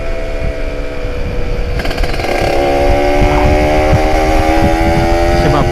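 A Kawasaki Ninja ZX150 two-stroke engine runs close and loud, buzzing steadily before revving up around two seconds into a higher, raspy whine that holds with a slight waver.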